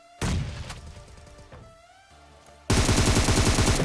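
Gunfire in PUBG Mobile, rapid automatic bursts that start abruptly, pause briefly and then resume loud and dense, close and alone with no talk.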